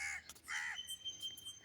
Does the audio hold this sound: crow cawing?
yes